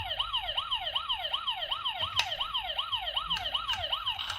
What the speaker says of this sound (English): if you want sirens, you can use sirens as well